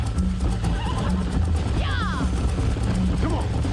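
A horse in Red Dead Redemption lets out a short whinny midway through a race, rising over steady game ambience and hoof-driven background rumble, with no talk over it.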